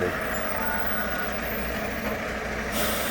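A Volvo truck pulls in to deliver a load of Dutch winter onions, its engine rumbling steadily up close with a hiss of air brakes, and faint voices in the background.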